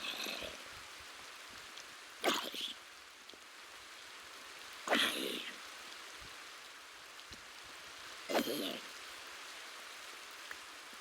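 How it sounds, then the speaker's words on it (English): Steady rain falls in a Minecraft game world as a soft continuous hiss, broken three times by short louder bursts of sound. "And the rain does add a cozy little atmosphere."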